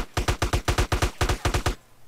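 An M4 rifle in GTA San Andreas fires a rapid, even burst of about thirteen close, punchy shots in under two seconds, then cuts off into near silence.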